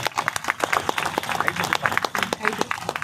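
An audience at a school annual day claps in dense, sustained applause throughout, with many hands rattling together at a steady level and a voice faintly underneath.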